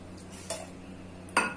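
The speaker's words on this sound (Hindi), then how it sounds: "दूध डालने के बाद अब इसे हम इस तरह अच्छे से मिक्स कर लेंगे" A spoon stirs mango pulp and milk inside a mixer jar, giving two brief, close clinks against the jar with quiet scraping between them.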